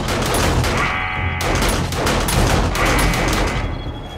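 Sustained gunfire in the survival video game 7 Days to Die: loud, rapid volleys with heavy booming impacts, running almost nonstop with brief dips, and no talk.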